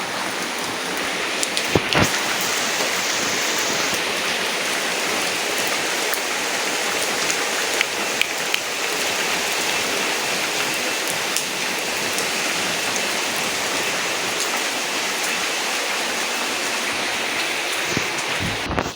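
Steady rain falling heavily, a continuous dense hiss of drops on surfaces with a few sharper taps, no voices.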